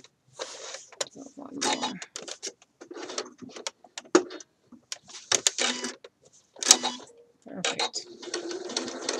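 A sewing machine stitches fabric slowly while a shirt dress is being sewn, producing bursts of rapid mechanical whirring and ticking separated by pauses, with a person speaking briefly between runs.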